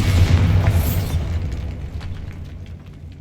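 A Bombarda spell explosion in Hogwarts Legacy, one loud, close blast with a deep rumbling low end and a bright crackling burst, fading into a short debris tail.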